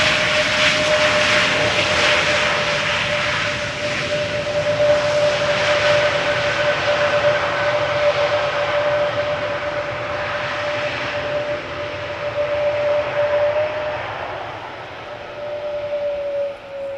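A Cargolux retro-livery Boeing 747 landing at Amsterdam Schiphol Airport, a loud sustained jet engine roar with a steady whine that swells and eases over time, heard from outside with no voices.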